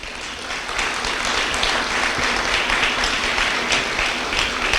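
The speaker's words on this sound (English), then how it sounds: "Let's give her a round of applause." An audience at a county swearing-in ceremony claps in sustained, dense applause that rises quickly and holds steady and loud until the end.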